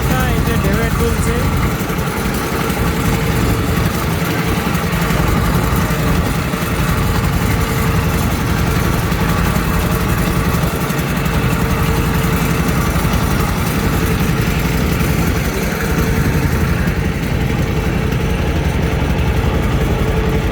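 A trawler boat's engine drones steadily and loudly throughout while crossing a wide river, a continuous low rumble with faint water wash and no break in the running.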